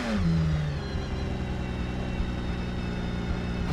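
A sports car engine in a video game holds a loud, droning rev, steady and close, with no talking.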